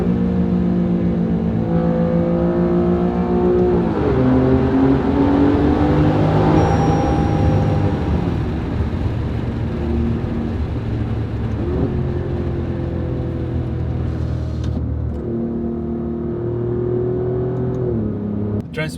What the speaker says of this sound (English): Gonna put the back windows so you can hear the exhaust.